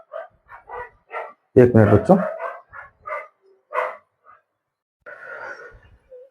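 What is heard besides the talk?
dog barking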